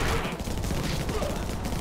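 Turrets in the video game Infested Planet fire at aliens, a dense, continuous barrage of rapid gunshots packed close together, with a voice faintly underneath.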